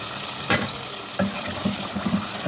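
Frozen yogurt frying in a spice masala for malai kofta curry, a steady close sizzle broken by a few sharp scraping stirs of the spoon.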